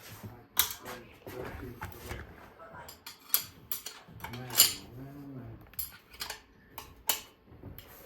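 Top bolts on a twin cam engine being cracked loose about a quarter turn each, giving sharp metallic ratchet and wrench clicks in irregular bursts, with someone talking intermittently over them.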